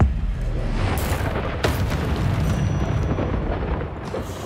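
Spell combat in the video game Hogwarts Legacy, with a disarming spell cast among other attacks: loud booming blasts and bursts over a continuous rumbling din, with sharp impacts near the one-second, 1.7-second and four-second marks.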